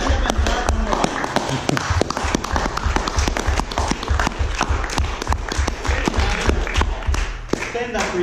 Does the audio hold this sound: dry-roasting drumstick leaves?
no